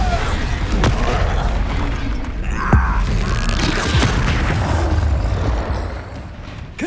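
Bombarda spell blasts in Hogwarts Legacy combat, heavy booming impacts and crashes over a dense rumbling battle bed, with a few sharp hits standing out.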